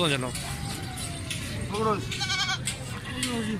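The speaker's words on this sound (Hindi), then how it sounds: "ये एक ही बकरी के 2 बच्चे हैं" Young goats, two kids of the same mother, bleating repeatedly in short wavering cries close by, with people talking over them and a vehicle rumbling in the background during livestock loading for cargo.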